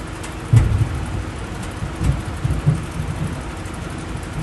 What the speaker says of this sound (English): lightning could stop right now